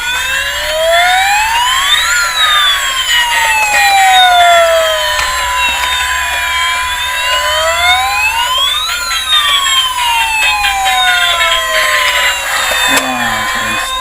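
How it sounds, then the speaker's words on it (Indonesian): A toy fire truck siren wails in a steady loud rising-and-falling pattern, repeating its sweep several times up close with a bright electronic tone, ending with a brief click. "Di sini ada mobil pemadam kebakaran."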